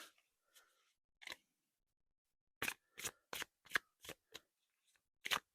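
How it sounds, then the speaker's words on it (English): Cards are riffled and shuffled in a string of quick, crisp bursts, a few soft ones and then a faster run of sharp flutters, close and clear with no talking. "So interesting how same shaped cards shuffle so differently."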